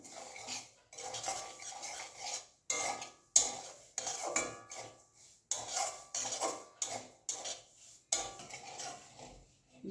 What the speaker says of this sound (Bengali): এবার চালের সুজিটা একটু হালকা গরম খোলাতে ভেজে নিচ্ছি, যাতে কাঁচা গন্ধ না দেয়